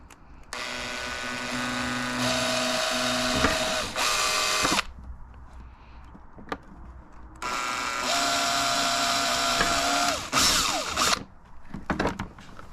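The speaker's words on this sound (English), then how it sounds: "I'm going to get 2 drill bits, one small one as a pilot hole" A power drill whirs steadily through a Traxxas X-Maxx RC car body shell in two long runs, pausing between them, with brief trigger bursts and clicks near the end.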